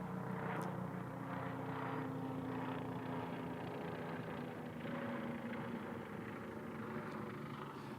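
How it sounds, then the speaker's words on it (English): An airplane passes overhead during an outdoor press briefing on illicit cannabis eradication, a steady broad engine drone holding at moderate distance for the whole stretch with no talk over it. "I'm going to let this plane pass."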